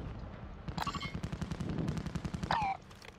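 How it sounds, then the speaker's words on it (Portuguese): Rapid bursts of automatic gunfire in Call of Duty Warzone DMZ crackle in a fast rhythm at moderate distance, with a couple of sharper metallic shots standing out above the stream. "Olha, tá tocando tiro lá, ó."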